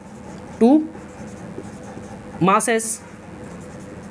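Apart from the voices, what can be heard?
writing on a board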